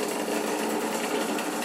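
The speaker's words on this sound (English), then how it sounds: "we'll rewind the Cine film all the way to the beginning" An 8mm cine film projector rewinds its reel, giving a steady, close mechanical whir and rapid fluttering clatter that holds even and continuous for the short stretch.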